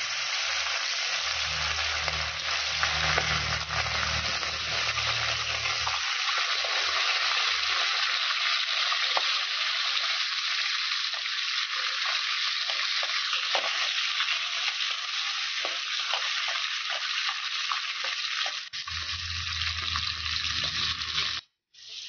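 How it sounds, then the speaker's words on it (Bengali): Continuous hot-oil frying hiss of rohu fish, fairly loud and close, with occasional light clinks and a low hum at start and end. "তেল গরম হয়ে গেছে গা, মাছ ভাজা লিতেছি।"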